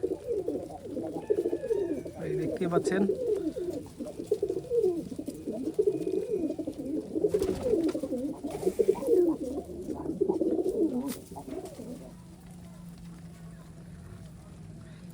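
Giribaz pigeons coo in a dense, overlapping chorus of low, throaty rolling calls close by, with someone briefly speaking over them before the cooing thins out.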